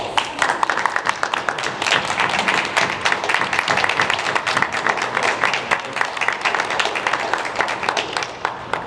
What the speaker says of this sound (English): I want all of us to give a round of applause.